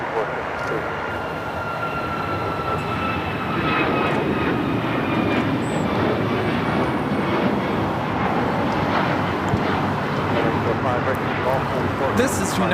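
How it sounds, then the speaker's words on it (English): A United Airlines Boeing 737 MAX 9 takes off at LAX bound for Denver, its engine roar building and holding at moderate distance while people talk over it. "1464 taking off to Denver, Colorado on the MAX 9"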